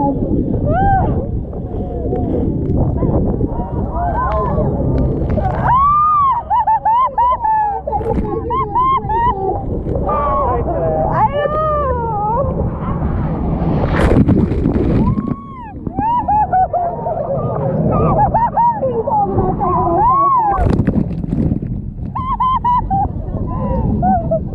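Jet boat ride through the Niagara whirlpool rapids, with loud continuous roar of wind and rushing water around the hull, plus excited shouts and whoops from passengers throughout.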